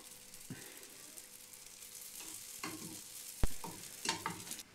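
Sfenj dough frying in oil in a pan, a soft steady sizzle with stirring scrapes and a few sharp clacks of utensils against the pan, moderately faint.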